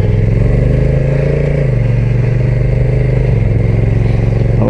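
A Honda NT1100 DCT touring motorcycle on the road gives a continuous close engine drone mixed with wind rush, its pitch stepping down slightly midway.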